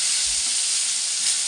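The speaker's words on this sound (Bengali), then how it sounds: "বেগুনগুলো ভেজে নিই" Eggplant slices sizzle and fry in very hot oil, a steady close bright hiss with no talking.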